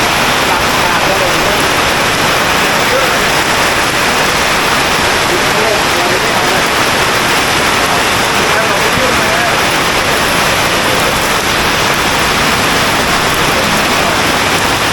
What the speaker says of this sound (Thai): ฝนตกหนักมากครับ น้ำไหลตามถนนเลย